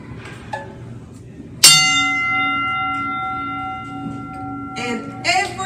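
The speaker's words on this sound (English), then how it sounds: "every time you hear that bell ring" A school celebration bell is struck once with a sharp, loud strike and rings out in a long, slowly fading tone, followed by faint background sounds.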